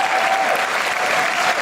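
Dense, steady applause from a comedy-club audience at a stand-up show, a continuous wash of many hands clapping together, loud and close, with no voices audible through it.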